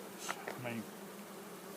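Bees buzz at an open hive: a few brief, close passes of individual insects over a soft background hum, fading after the first second.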